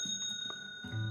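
A bicycle bell gives a clear ringing tone that holds steadily through the moment, heard during a children's sing-along, with low background sounds beneath it.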